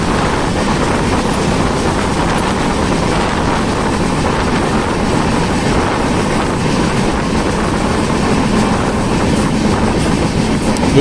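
A train on an Indian railway line nearing Bhandara Road station, heard from inside as a loud, steady rumble and rattle of the wheels that carries on unbroken, with no voices.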